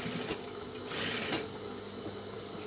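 A sewing machine lock-stitches the waistband of men's trousers, running in short steady bursts of rapid mechanical whirring and clatter, close and even in level.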